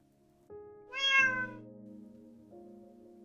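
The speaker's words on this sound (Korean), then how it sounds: "무릎 위에서 느긋하게 몸을 말고 졸던 마요가 눈을 감은 채로 고개를 살짝 들고 작게 울었다" A cat curled up dozing on a lap lets out one soft, brief meow, heard alone over gentle, sustained background music.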